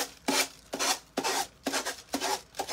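Rhythmic rasping strokes of a worn sanding block running out of grit scraping back and forth over a ribbon plate, about six close, loud passes in a steady cadence.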